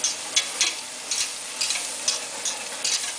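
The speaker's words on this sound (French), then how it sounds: "Je vais ajouter la farine. Et là ça va commencer à devenir un peu délicat. Là on fait un roux en fait." A spoon scrapes rhythmically through a flour roux with shallots and chorizo in a hot pan over lowered heat. The close, repeated strokes sound over a soft, steady sizzle.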